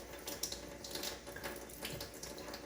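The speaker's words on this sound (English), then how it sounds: "I use a nail brush that has silicone cups, so it sticks right onto the counter" Running tap water pours into a sink while a hand is scrubbed with a silicone nail brush fixed to the counter, making a steady close splashing wash with soft rubbing pulses and no voices.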